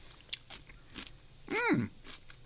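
Someone bites into a crunchy raw Jerusalem artichoke root, a native plant, giving one close, brief crisp crunch amid a quiet indoor setting.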